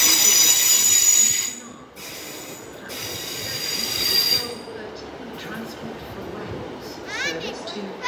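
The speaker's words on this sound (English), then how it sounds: "Okay, a train is coming in. 12:13 transport for Wales, service to Penarth." A Transport for Wales train bound for Penarth pulls into a station platform with loud, sustained high-pitched wheel squeal that cuts out and returns, over rumbling rail noise and distant voices.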